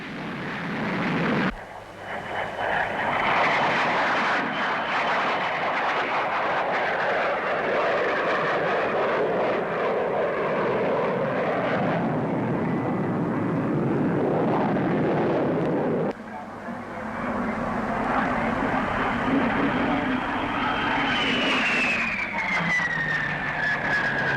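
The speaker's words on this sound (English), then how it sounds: "Here's the DH-112, the Venom, a development of the famous Vampire." A de Havilland DH-112 Venom jet aircraft roars past loudly at the 1949 Farnborough Air Show, its broad engine noise swelling and shifting, with a rising whine near the end as it passes.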